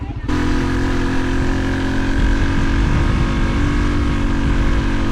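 A motorcycle ridden toward Lake Maragang in Mindanao, Philippines, gives a loud, steady engine drone mixed with wind rush all the way through, close to the microphone.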